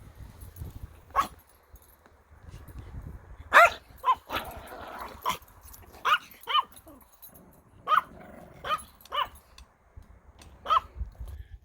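Several dogs bark in sharp, irregular bursts close by, with a low growl and a few yips mixed in between the barks, and no talking over them.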